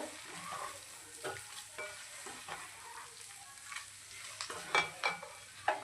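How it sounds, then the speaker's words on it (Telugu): Boti fry sizzles in a pan while being stirred and mixed with chopped coriander, a steady frying hiss broken by repeated scraping stirs, growing a little louder toward the end. "సన్నగా కట్ చేసుకున్న కొత్తిమీర కూడా కొంచెం వేసేసుకోవాలి మొత్తం మిక్స్ చేసేసుకొని చూసారు కదా బోటీ ఫ్రై అయితే చక్కగా ఉందన్నమాట"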